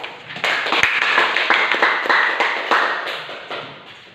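A classroom of students applauds an answer with steady, dense hand clapping that runs about four seconds, close and fairly loud, with no talking over it.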